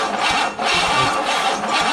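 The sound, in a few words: Chevy 350 engine cranking on an engine stand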